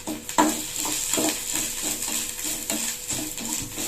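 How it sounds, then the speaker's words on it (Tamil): Grated coconut being lightly roasted in a pan, with a soft sizzle under rhythmic scraping strokes of a stirring spoon. "தேங்காவை லைட்டாக வறுத்து எடுத்துக்கலாம்"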